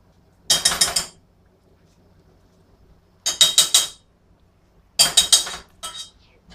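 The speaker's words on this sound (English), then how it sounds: "Now I'm going to have to scoop the inside out of this guava with a spoon" Spoon scraping and scooping the flesh out of a guava, heard as three separate bursts of bright, close clinking and scraping, each lasting about half a second, with pauses between them.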